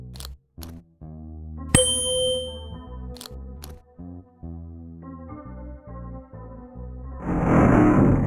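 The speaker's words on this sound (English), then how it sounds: "The opening mechanism seems to have activated with the sound of the instrument." Video game chime from an instrument sets off a hidden wall mechanism to reveal a hideout. A bright struck ding rings out, then sustained melodic tones play, ending in a louder noisy rumble of the wall opening.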